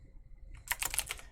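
Quiet, close typing on a computer keyboard during Unity visual scripting work: a faint soft tap, then a quick cluster of clicky keystrokes lasting about half a second, with no talk.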